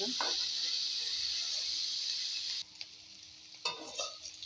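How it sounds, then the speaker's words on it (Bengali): Bitter gourd fries in a pan, giving a steady oil sizzle that drops away partway through, followed by a few scraping stirs. "আমি উচ্ছে ভাজাটাও বসিয়ে দিলাম"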